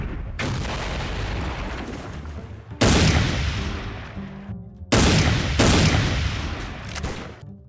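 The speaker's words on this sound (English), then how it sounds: "Long-range rifle hits very hard." Three heavy long-range rifle shots in the video game Soldier of Fortune: Payback, each a loud, sharp blast with a long rumbling echo, spaced a couple of seconds apart.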